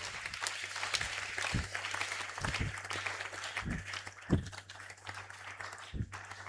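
Church congregation applauding during a French-language sermon, scattered clapping at a moderate distance with a steady low hum beneath, a few sharper claps standing out.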